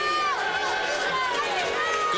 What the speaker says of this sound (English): Good crowd on hand here.